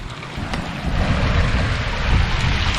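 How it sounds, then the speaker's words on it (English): Steady rushing of water pouring over the top of a canal lock gate on the Grand Union Canal, a continuous broadband roar with low rumble and some wind buffeting on the microphone. "water coming over the top of the gate into the lock"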